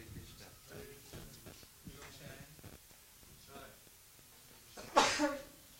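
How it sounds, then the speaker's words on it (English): People talk quietly, then a single sharp, loud sneeze bursts out near the end. "You know why you get blessings when you sneeze?"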